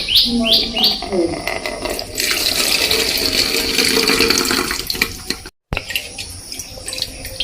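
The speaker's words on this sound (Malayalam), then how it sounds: "ഇതിലോട്ട് നമുക്ക് കുറേശ്ശെ ഒഴിച്ച് അരിക്കാം" Homemade rambutan wine trickles and splashes through a strainer into a jug, a steady close pour, with birds chirping outside and a brief break partway through.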